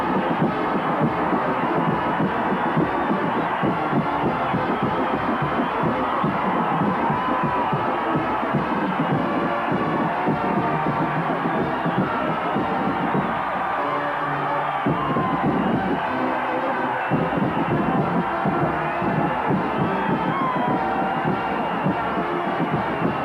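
A crowd of 75,000 at the 1987 Cotton Bowl Classic roars as the Ohio State Buckeyes take the field against Texas A&M: a dense, sustained stadium cheer filling the space, loud and continuous throughout.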